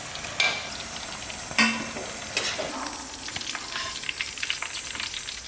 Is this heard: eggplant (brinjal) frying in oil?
yes